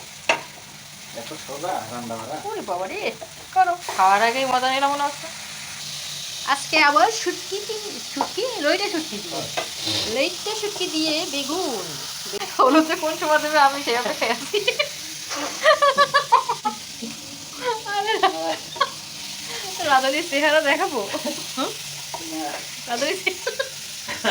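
Chillies fry in a pan with a steady crackling sizzle, with harmonic voices or chatter running above it throughout.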